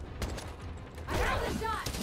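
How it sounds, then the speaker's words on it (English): Enemy gunfire in Spider-Man: Miles Morales, a quick burst of rapid shots crackling close over game sound effects, with a voice briefly shouting. "Firing on Spider-Man!"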